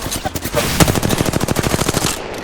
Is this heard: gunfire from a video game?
yes